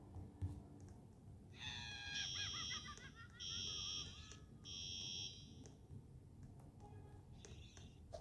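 Loud electronic alarm tones from a house alarm in the Roblox game Brookhaven beep in repeated bursts of several seconds over a low background rumble, with a few short tones afterward.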